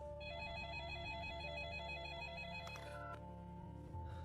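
A mobile phone rings with a repeating electronic ringtone, loud and steady for about two and a half seconds, then the tone changes and carries on more thinly until the end, with no talking.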